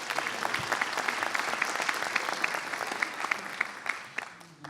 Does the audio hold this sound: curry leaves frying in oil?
no